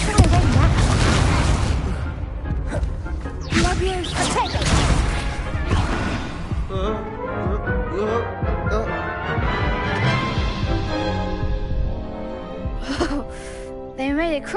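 A Confringo explosion spell goes off in a Harry Potter video game, with booming, crashing blasts up front followed by gasping voices and spell-casting chatter.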